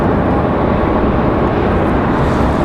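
A small trainer airplane at Raleigh Durham International airport, a loud, steady engine roar that holds constant and unbroken throughout, with no voices.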